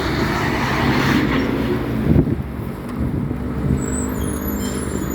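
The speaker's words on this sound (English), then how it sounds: "there's a video of that train going past" A train rumbles past close by with a loud, steady low roar, rattling wagons and gusty wind noise on the microphone.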